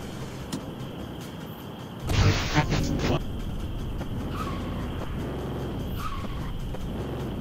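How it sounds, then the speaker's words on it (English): A BMW drifts and skids in a video game, a sustained engine hum breaking into a loud tire screech for about a second, with fainter squeals following against continuous game noise. "Oh man, you can do some sick drifts."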